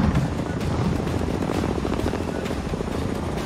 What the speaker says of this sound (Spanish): Y hay helicóptero.